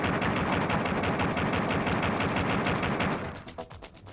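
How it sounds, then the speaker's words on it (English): Duke's pistol firing in a Nintendo 64 game, a rapid, evenly spaced stream of loud synthetic gunshots that rattle on for about three seconds before trailing off, with no talking. "Then return to the game and fire some bullets."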